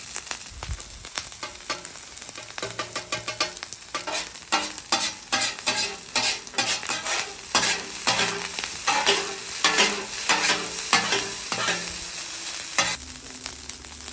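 Garlic and onions frying in melted butter on a Blackstone griddle, crackling and sizzling steadily while a spatula scrapes and stirs them in a quick, repeated rhythm, close up with no talking.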